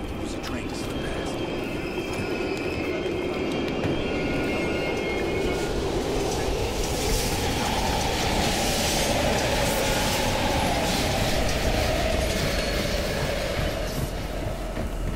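A train rumbles past in the Call of Duty Cold War video game at an abandoned station, a loud continuous roar with clattering wheels and a rising screech, while voices talk over it.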